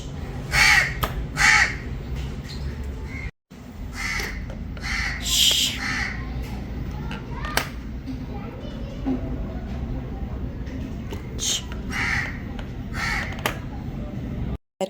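Several crows caw repeatedly, loud and close on a balcony grill, harsh bursts recurring through the clip with a voice talking over them.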